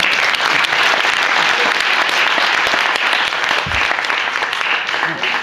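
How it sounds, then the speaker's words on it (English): Audience applause for a Rubik's Cube solver at a number-crunchers grand champion round, a steady dense clapping from a crowd lasting several seconds, loud and sustained with a slight fade at the end. "Give him a round of applause."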